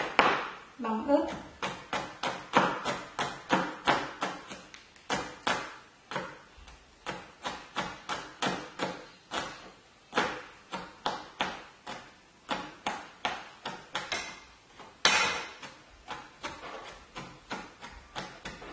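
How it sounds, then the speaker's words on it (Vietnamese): A knife mincing chillies on a cutting board, fast rapid chops in quick bursts with brief pauses, close and fairly quiet, and no talking over the chopping. "bằm ớt."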